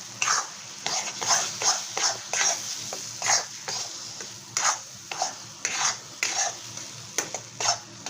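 Soaked and ground chickpea dal stirred in a kadhai for pithla, a spoon scraping the pan in a steady rhythm of close, repeated strokes over a soft sizzle.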